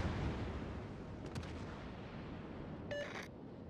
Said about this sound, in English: the secondaries are once again engaging the destroyer again